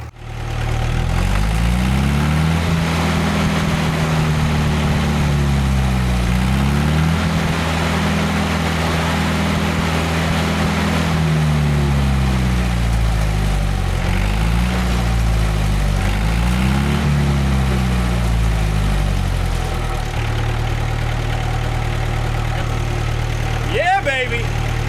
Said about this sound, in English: Let's give her a throttle tickle and see what it does.